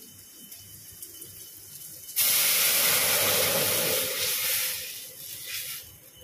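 Dal lentils hit a hot pot with a sudden loud hiss and sizzle that swells, holds for a few seconds, then eases into softer steaming, with no voices present.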